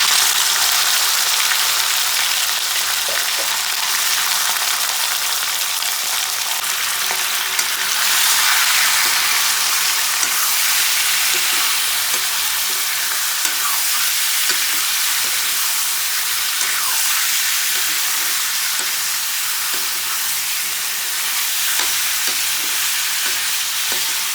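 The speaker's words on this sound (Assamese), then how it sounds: "এতিয়া মই আগতে গাহৰি মাংসখিনি ভাজি লওঁ।" Pork sizzles in hot oil with dried red chillies and cumin in village-style home cooking. A continuous, loud frying hiss runs the whole time, with occasional stirring clicks and no talking.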